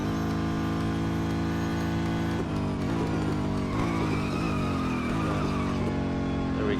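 A race car engine in the Real Racing 3 game holds a loud sustained tone, then its pitch shifts and wavers as the tires squeal and skid during an overtake, alone and close.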